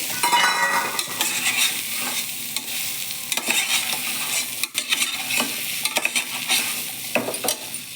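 Soya chunks stirred into a hot tempering pan with asafoetida and turmeric: steady sizzling and frying, with scraping stirs and occasional clinks of the utensil against the pan.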